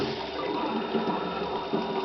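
A toilet unblocker forces hot water into a sealed toilet bowl, giving a steady, close rushing and gurgling flow with no break.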